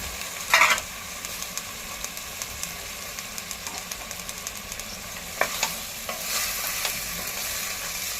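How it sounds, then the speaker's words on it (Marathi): Pav bhaji vegetables with peas being stir-fried in a pan, a steady low sizzle under irregular scraping stirs, with a few louder clatters near the start and middle. "आणि असेच आपण 2 मिनिटं भाजी परतून घेऊया"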